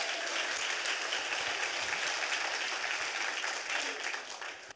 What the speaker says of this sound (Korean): 우리 하나님께 박수 링광 돌리십시오.